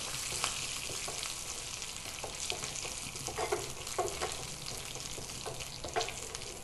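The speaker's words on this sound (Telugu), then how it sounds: "జీలకర్ర, కరివేపాకు వేసి జస్ట్ కొంచెం వేగితే చాలు" Cumin seeds and curry leaves fry in hot oil with a steady, faint sizzle, broken by scattered small crackles and pops. No one speaks.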